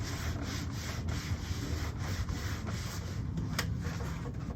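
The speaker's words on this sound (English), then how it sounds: "It's time to get in there and do some scrubbing." Scrubbing gunk off a copper Weber Performer grill produces a continuous rough rubbing with rhythmic back-and-forth strokes, close and fairly loud, with no talking.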